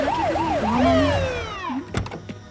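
An ambulance siren wails loudly through a Mumbai street during the lockdown, its pitch sweeping up and down, then shifting to a steadier tone before a thud.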